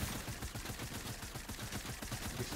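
Fortnite gunfire aimed at a robot rattles in a fast, even stream of shots, moderately quiet and unbroken, with no voices.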